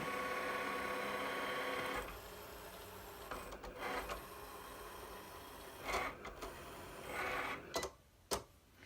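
A Cricut Explore cutting machine works through a cut, a faint mechanical whir at first, then softer intermittent motor buzzes and clicks as the carriage shifts, ending with a couple of sharp knocks.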